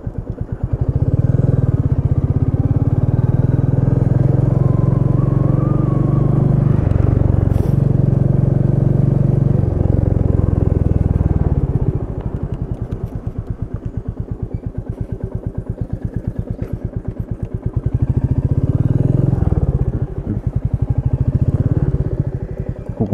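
A Royal Enfield Meteor 350 cruiser motorcycle being ridden, its single-cylinder engine thumping loud and close, with a long steady stretch, a slower chugging lull, then building revs again.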